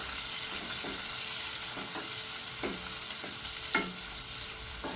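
Chopped onions frying in a pan for a stuffed capsicum curry, a steady bright sizzle with intermittent scraping stirs of a spatula, close and continuous, no voices.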